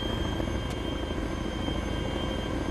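A helicopter in the multiplayer shooter Wasteland drones steadily overhead at close range, a constant loud rotor and engine roar filling the whole moment with no voices on top.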